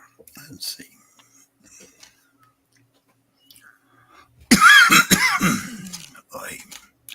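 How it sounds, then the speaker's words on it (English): After a quiet stretch with faint murmurs, a sudden loud, harsh cough bursts out close by, followed by a few rougher fading coughs. "someday this cough will go away"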